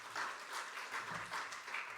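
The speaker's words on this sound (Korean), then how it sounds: "함께 박수로 맞이하겠습니다" A church congregation in Korea welcomes a pastor with applause, a soft, continuous wash of many hands clapping at a modest distance, steady and even throughout.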